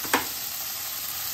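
Asparagus sizzles in a pan over low heat, a short clattering stir at the start followed by a steady, even frying hiss, close and moderately quiet with no voices.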